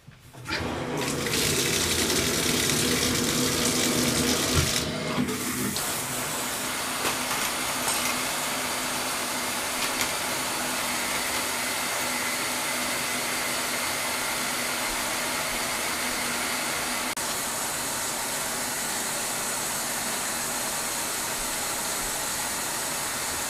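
Shower water pouring steadily onto a Yukon Outfitters El Capitan backpack in a waterproofing test, a continuous loud hiss and splatter after an initial burst and shift, unbroken for more than twenty seconds.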